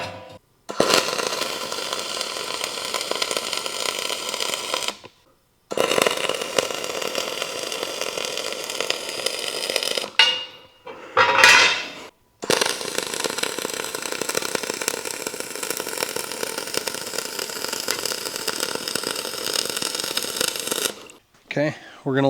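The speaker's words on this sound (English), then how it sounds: "Now I'll just go ahead and weld the inside." An arc welder runs on the inside of a fabricated band saw roller conveyor, a loud steady crackling buzz laid down in several long passes separated by short silences, with no one speaking.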